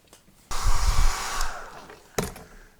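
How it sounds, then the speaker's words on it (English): Hair dryer blowing on wet paint glaze, a loud close whoosh that starts abruptly, steadies into a broad airy roar, then eases off with a brief second burst near the end. "I'm going to go use the hairdryer on this for a few minutes, dry this up"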